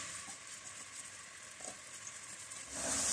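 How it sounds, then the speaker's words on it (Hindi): Finely chopped onions fry in hot oil, making a faint, even sizzle with a few soft crackles that swells louder toward the end, and nobody speaks. "लाइट गोल्डन होने तक फ्राई कर लेते हैं।"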